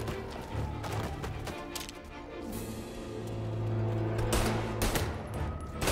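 Gunfire in the video game Mafia: Definitive Edition, a dense burst of rapid shots and clattering impacts that rolls on through the whole stretch at steady, loud volume with no talk over it.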